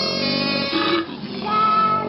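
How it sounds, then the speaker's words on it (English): Koala giving deep, rough grunting bellows, a couple of harsh guttural bursts close and fairly loud, without talking. "That is the sound of a koala."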